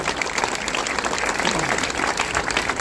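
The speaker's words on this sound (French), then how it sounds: "vous pouvez applaudir" An audience applauds at the opening of a rose exhibition, producing a continuous, fairly loud patter of many hands clapping at once, with faint voices underneath.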